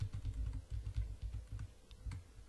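Computer keyboard arrow keys tapped in a quick irregular series of soft clicks, close and quiet, several presses in a row with short gaps.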